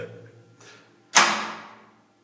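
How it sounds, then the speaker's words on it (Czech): A toilet door lock is turned, giving a quiet click and then one sharp, close metallic clack that rings out briefly before silence. "Zamykání dveří to je."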